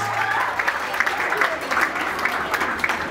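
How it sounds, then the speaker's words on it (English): Guests at a Peruvian quinceañera clap for the godparents' entrance, a dense, even roar of applause running under a speaking voice. "Can we give them a big round of applause?"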